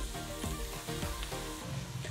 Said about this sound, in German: dann lasse ich 2-3 Minuten auch anbraten